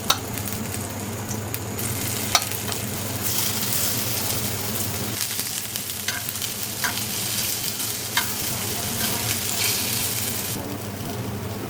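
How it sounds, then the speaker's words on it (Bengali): Small ash gourd and lentil dumplings (bori) fry in hot oil with a dense, continuous sizzle. Occasional stirring clicks and scrapes sound close up, and no one speaks. "এটা হচ্ছে চাল কুমড়ো ডালের বড়ি ছোটো ছোটো করে ভেজে নেব"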